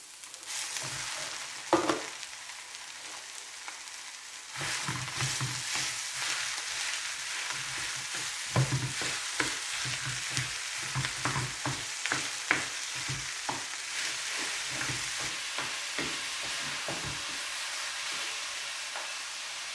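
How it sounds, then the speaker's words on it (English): Lean beef mince dropped into a hot pan: a brief thump, then a steady loud sizzle with repeated scraping stirs as it starts to brown. "So let's get the mince and slam it in."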